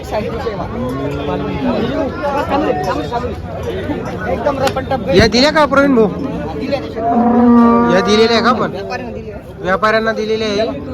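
Cows mooing repeatedly at a busy cow market in Chalisgaon trading crossbred, HF and Jersey dairy cows, the loud lowing calls rising over steady crowd chatter and people talking close by.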